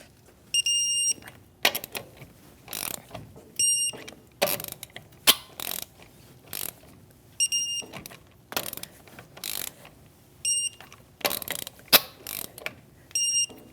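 A torque wrench tightens the rear lower control arm bolts on a Chevrolet Malibu to 100 foot-pounds in a crisscross pattern, with repeated short runs of sharp ratchet clicks separated by pauses and thin electronic beeps along the way.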